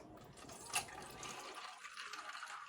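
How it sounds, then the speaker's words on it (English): Diet Pepsi is poured from a can into highball glasses, a soft, steady fizzing pour heard close and quiet, with no talk. "So 1 can goes in. That gets poured into your highballs."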